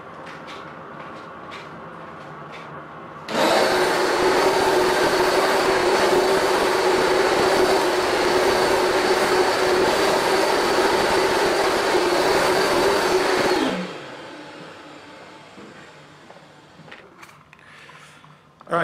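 A carpet cleaner runs over carpet with a loud, steady roaring drone. It kicks in abruptly, holds for about ten seconds, then cuts off into quieter background noise.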